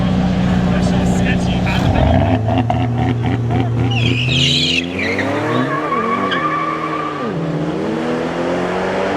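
A BMW 540i with a B58 engine races a 4WD truck with a 5.9 Cummins on a street in Mexico: loud revving, a sharp screech of tires at launch, and rising engine howls as they pull away, with voices shouting nearby.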